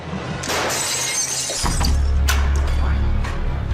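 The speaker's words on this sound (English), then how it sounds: "they hear a crashing sound like broken glass" Glass shatters with a loud crash and then scatters and tinkles for a few seconds. A heavy low thud follows it, and there is no talk.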